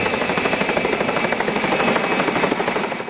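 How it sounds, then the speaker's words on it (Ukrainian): A Mi-2 helicopter flown by student pilots on training flights beats loudly and steadily throughout, with a dense turbine whine and rapid rotor chop. "юні льотчики під наглядом своїх вчителів виконують перші практичні польоти на вертольоті Мі-2"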